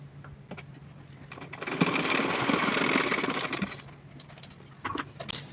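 Sewing machine double stitching a small cotton garment: a short, close mechanical run of whirring stitches in the middle, framed by quieter handling clicks and taps, with no speech.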